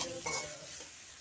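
Spice masala with cumin and coriander powder sizzles quietly as it is stirred in a pan, a soft, steady frying hiss with faint scraping, brief and fairly low.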